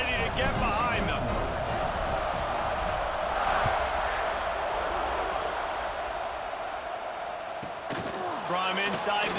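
Simulated stadium crowd in the College Football 26 video game, a steady loud roar with rising swells as the teams set up for a kickoff, with a commentator's voice running over it.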